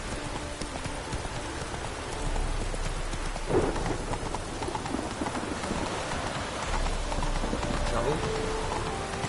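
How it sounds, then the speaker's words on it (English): In The Witcher, steady rain patters and hisses across the scene, with hooves clopping and a low rumble in the background. "It just rains and rains."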